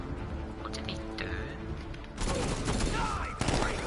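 Double pistols firing in Batman Arkham Knight, a quick burst of sharp game gunfire with splashy, crackling impacts, coming in two loud bursts after a quieter opening.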